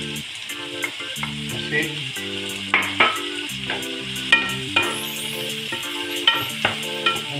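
Crushed tomato going into rice and meat frying in a pan, a steady close sizzle with periodic spoon stirs and scrapes, while music plays in the background.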